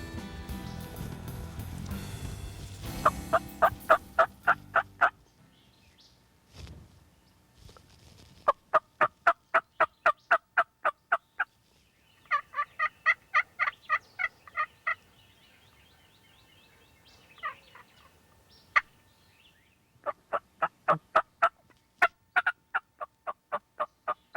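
Wild turkeys gobble repeatedly during a Texas turkey hunt, rapid rattling bursts at moderate distance separated by quiet gaps, with some louder rustling and handling noise at the start.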